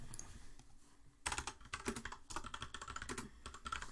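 Fingers type on a computer keyboard in quick, uneven bursts of close clicking keystrokes after a quiet start, with no talking.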